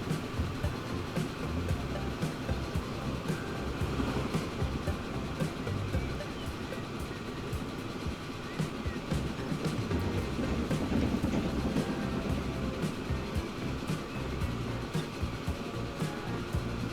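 Freight trains running at full, triple-digit capacity in the Transport Fever 2 game, giving a steady, dense rumble of rail traffic with faint clicking throughout, unchanging in level across the whole stretch.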